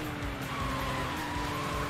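A race car's tires screech in a sustained skid in the racing game Sega GT, a steady loud squeal over engine roar lasting a couple of seconds with no talking.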